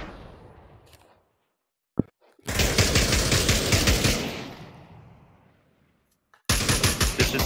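Gunfire in the VR shooter Pavlov: a single sharp shot, then a long loud burst of rapid automatic fire, a pause, and another burst starting at the end.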